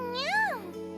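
A cat's meow from the video game Trails of Cold Steel rises and falls once in a short tone, playing over steady background game music.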